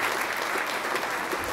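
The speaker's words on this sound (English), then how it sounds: "let's give Megan a round of applause" Audience at a DePauw University speaker series talk gives a round of applause after the speaker finishes. Brief, dense, even clapping from a full room, with no talking over it.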